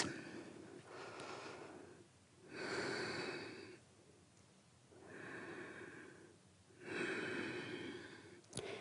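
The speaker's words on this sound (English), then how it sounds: "stay here, still ujjayi breathing for about 5 breaths" Slow, audible ujjayi breaths during a seated yoga twist pose, each a long hissing inhale or exhale in a steady rhythm, close and quiet, with no talking.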